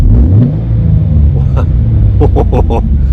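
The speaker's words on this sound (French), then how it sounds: "vous avez le ronron du V6 3 litres 7" A Morgan Roadster's 3.7-litre V6 idles just after a push-button start, a steady low rumble close by with brief light revs toward the end.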